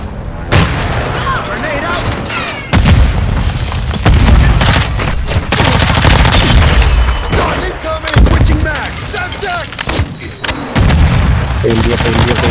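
Precision airstrike explosions in Call of Duty Modern Warfare 2 (2022), a series of loud booming blasts and rumbling impacts across the span, mixed with scattered gunfire and people talking.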